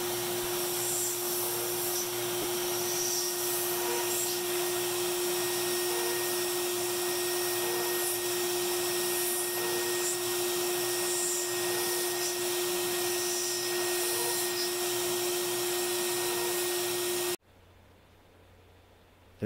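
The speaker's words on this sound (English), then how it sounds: "I just set a row of pocket cuts out on my CNC here so I can cut nice holes" A CNC router cuts a row of pocket holes into walnut for a fireplace mantel, giving a steady, loud whine with a constant hum that runs unbroken until the machine cuts out abruptly near the end.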